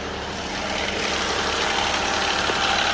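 Infiniti Q50 twin turbo engine running with a rattling noise, a steady close mechanical hum with faint irregular ticking and knocking underneath, continuous for three seconds without talk.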